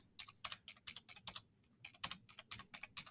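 Quick, crisp keystrokes on a computer keyboard, typed in two bursts of rapid clicks separated by a brief pause, close and fairly quiet with no talking.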